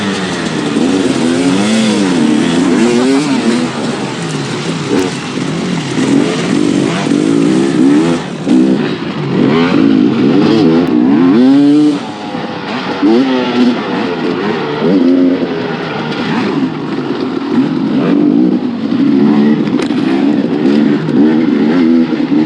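Several dirt bikes racing off the start on a slippery dirt track, engines revving hard and loud, rising and falling as they accelerate and shift, close by with no talk.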